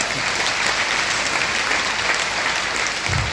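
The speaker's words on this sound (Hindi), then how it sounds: "एक बार जोरदार तालियां पाऊंगा।" Audience breaks into loud, steady applause, a dense wash of clapping that holds evenly throughout without pause.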